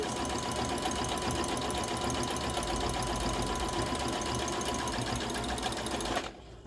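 A sewing machine runs steadily, stitching fabric while a duster is being upcycled; the close, continuous mechanical whir lasts about six seconds before cutting off abruptly, with no talking.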